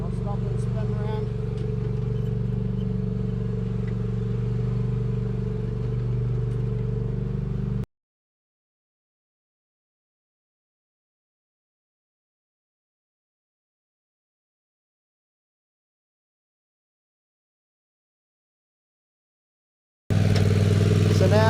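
Walker ride-on lawn mower engine running steadily nearby for several seconds before a long silent gap, then returning loud at the end as the machine stops and spins around.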